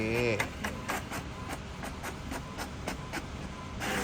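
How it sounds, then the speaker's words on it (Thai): An HP Smart Tank 750 all-in-one ink-tank printer prints a Wi-Fi password page with a steady, rhythmic run of mechanical clicks and whirs, close by, while people talk nearby. "เดี๋ยวมันจะพิมพ์พาสเวิร์ดไวไฟ"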